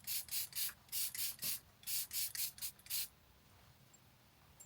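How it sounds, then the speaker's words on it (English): Fenty You Mist setting spray misting in about eleven quick, close hissing bursts in an uneven rhythm, then quiet. "what's the name of this spray again? Fenty You Mist spray."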